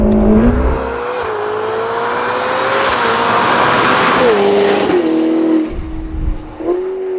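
A Novitec-tuned Ferrari F8 Spider with an 802 hp engine and sports exhaust revs hard and loud, rising pitch through gears with sharp shifts and a brief lift near the end, close and dominant throughout.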